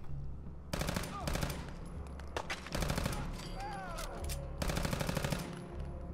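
Automatic gunshots in Fallout 4 come in three long, loud rattling bursts separated by short pauses, with faint ringing tones between them.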